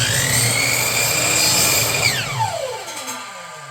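A miter saw cuts a small trim piece held in a jig: the loud motor whine and cutting noise run steady, then the blade spins down with a falling pitch near the end.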